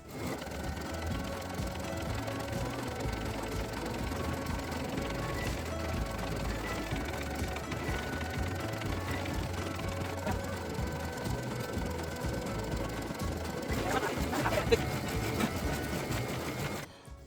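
A home embroidery machine runs continuously while stitching a dense satin-stitch finish around the edges of a small tag, a steady close mechanical whir and rapid needle chatter with a slight rise near the end.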